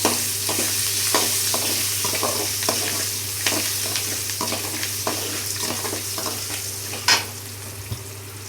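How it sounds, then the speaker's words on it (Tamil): Tomato thokku with small onions sautés in a pan, a constant sizzle under repeated stirring scrapes, a low steady hum behind and one sharper clank near the end. "நல்லா வதக்கணும்"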